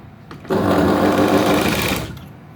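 A sewing machine runs in one continuous burst of about a second and a half, stitching two four-inch blouse fabric strips a quarter inch from the edge. It sounds close and steady, with a brief start and stop at either end and no talking over it.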